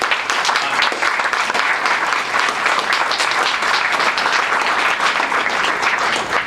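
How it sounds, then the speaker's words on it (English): A crowd at a March of Dimes fundraiser held at a Buick GMC car dealership in Parma claps loudly and steadily for several seconds, a dense, close round of applause. "give all those folks, especially the Axelrod family, a round of applause"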